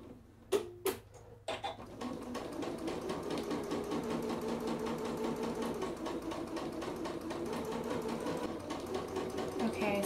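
A sewing machine runs continuously, stitching straight parallel lines across quilted fabric for slippers, with an even rapid mechanical chatter after a few sharp clicks at the start; quiet and close.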